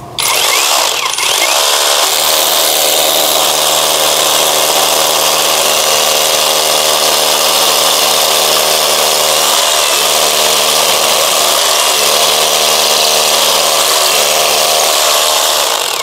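A budget rotary hammer drill bores into concrete with a loud, continuous grinding roar and a steady hammering buzz. It runs uninterrupted for the whole stretch, close up, with no voices.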